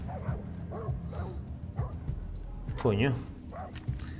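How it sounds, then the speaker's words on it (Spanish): Dogs in the jungle of the video game Far Cry 3 bark and yip several times in short bursts, with someone talking over them throughout. "Es que esto está lleno de perros, ¿eh?"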